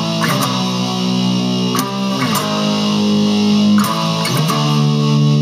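Distorted electric guitar power chords on the 6th string playing a riff, thick sustained chords with a few sharp changes and slides, loud and close with no talking.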